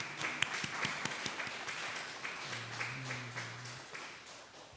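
Sparse, scattered hand claps from a church congregation welcoming one another during a Sunday service, faint and distant, thinning out after the first seconds over a low steady hum.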